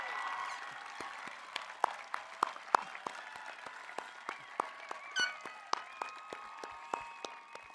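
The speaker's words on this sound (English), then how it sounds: "Please give them a round of applause." Scattered audience clapping at a high school graduation ceremony, thin and irregular with sharp individual claps spread across a quiet room, steady for several seconds.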